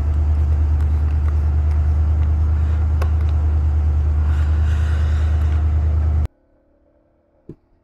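A Yamaha XT250 motorcycle with a modified airbox is ridden, giving a loud, steady engine rumble for about six seconds before it cuts abruptly to near silence, with one faint click afterward.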